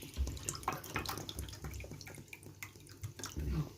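Water poured from a cup into a pot to make sugar syrup for caramel basbousa, a steady close trickling and splashing pour that runs the full length with small drips, no talking over it.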